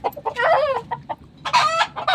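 A chicken clucks close by in a quick series of sharp, rising calls, pauses briefly, then bursts into another louder run of clucks.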